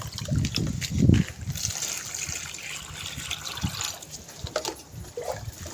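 Water from a pigeon's drinking bowl tipped out and splashing, a couple of heavy pours followed by lighter trickles and drips, close and moderately loud.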